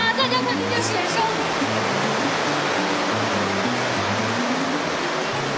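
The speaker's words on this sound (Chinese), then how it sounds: "哇，大家看这水声！" Rushing water of the Songxi river, a loud continuous broadband roar throughout, with low tonal hum and a faint voice briefly underneath.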